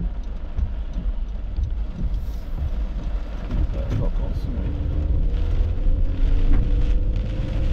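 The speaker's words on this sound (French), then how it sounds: "Bonne rafale de vent là-dedans." A strong gust of wind buffets the microphone outdoors in a parking lot near Montréal, a loud continuous low rumble that swells toward the end, with faint traffic-like tones beneath.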